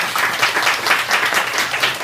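Applause from a church congregation after a choir anthem at a Korean Sunday service fills the room, a steady dense patter of many hands clapping together at a loud, even level for about two seconds.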